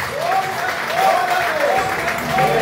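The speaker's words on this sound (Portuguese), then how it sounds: "as palmas logo vêm agradecer o nome de Jesus" A church congregation at a victory worship service claps in praise of the name of Jesus, a steady wash of applause under a voice speaking over it at length.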